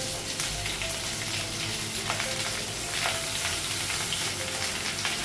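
Sliced eggplant and ridge gourd fry in hot oil in a pan, giving a steady, close, dense sizzle with faint crackles and occasional stirring scrapes.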